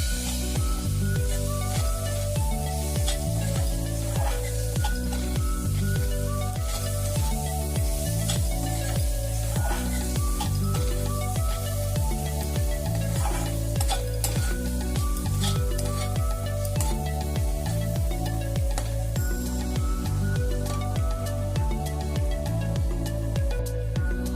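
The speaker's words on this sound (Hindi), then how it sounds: "अब इसको अच्छे से मिक्स कर लेंगे" Spiced masala of black pepper, red chilli and amchur powder frying for chole, a loud steady sizzle with rapid repeated scraping strokes of a spoon in the pan throughout, background music underneath, no talk.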